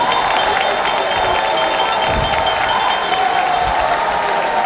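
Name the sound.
audience applause at a political launch event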